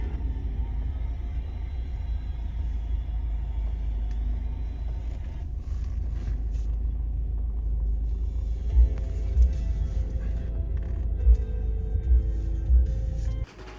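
A family car pulls into a hotel parking spot, its engine rumbling steadily up close, with a few soft thumps near the end as it settles into place.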